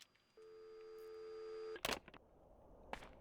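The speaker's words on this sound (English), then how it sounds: "Let's tell this phone to shut up again." Electronic phone ring in the survival horror game Crow Country: a steady tonal ring for over a second, cut off abruptly, then a few sharp clicks and clunks of game interaction in a quiet room.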